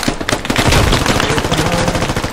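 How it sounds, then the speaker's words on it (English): Military video game gunfire hammers in dense, loud automatic bursts with rapid rattling shots throughout. "He's clear! Stop shooting!"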